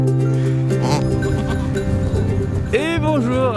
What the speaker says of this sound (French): Je suis entouré de chèvres un peu partout qui sont très intéressées par la caméra et par moi apparemment.